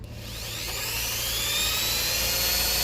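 A drill spins the speedometer cable of a Suzuki X4 motorcycle dashboard, a steady high whine that climbs gradually in pitch and loudness as the speed rises, close and continuous with no talking.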